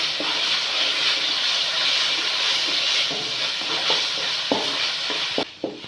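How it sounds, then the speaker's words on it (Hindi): Tomatoes sautéing with fried onion in a pan give a continuous hissing sizzle with a few soft stirring knocks and scrapes, fairly close, and no talking. "टमाटर के साथ इसकी भुनाई कर लेंगे।"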